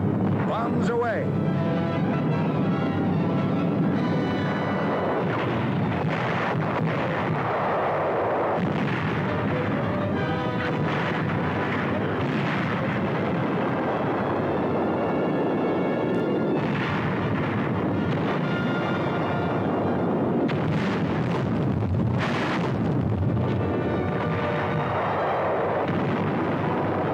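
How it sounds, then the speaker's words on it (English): Bombs dropped by Consolidated B-24 bombers bursting on Pantelleria, a dense, continuous rumble of heavy detonations and booming blasts over wartime narration. "Bombs away."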